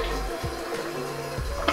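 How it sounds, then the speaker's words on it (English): A toilet fitted with a ZMJH electronic bidet seat flushes nearby, a low rushing gurgle of water that swells and surges over a couple of seconds, with no talking. "Flush."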